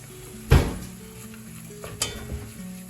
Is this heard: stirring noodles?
yes